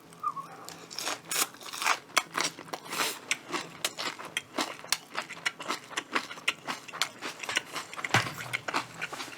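Repeated crisp crunching bites of Kyochon Soy Salsal fried chicken with a rice-flour batter, close up, in a steady rhythm of sharp crackly chews with no talking.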